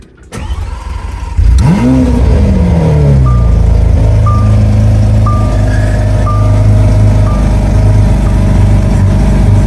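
A Lamborghini Aventador V12 engine cold-starts, heard from inside the car, cranking and firing up, revving loudly once before settling into a deep, rumbling idle heard up close.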